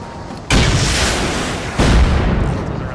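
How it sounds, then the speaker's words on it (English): Rockets fired in a video game, exploding against a charge wall: two loud, booming blasts about a second apart, each followed by a sustained rumbling roar. "stop shooting rockets at the charge wall, please."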